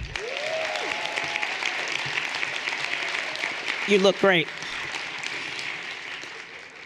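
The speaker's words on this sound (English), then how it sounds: "Can we just take a moment to give ourselves a round of applause for being back?" An audience at an awards event gives a steady round of applause that holds throughout, while one voice speaks briefly in the middle.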